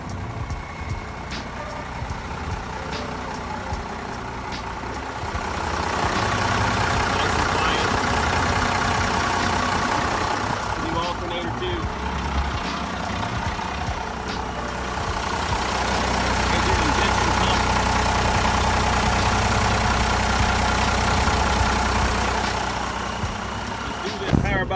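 A 1991 AM General M939 5-ton military truck idles with a deep, steady diesel rumble close by, swelling slightly louder at times, with someone talking over it.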